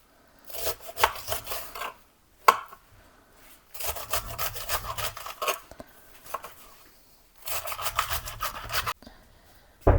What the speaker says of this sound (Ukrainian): У нас є така молода капустина. Стараємось добре нарізати.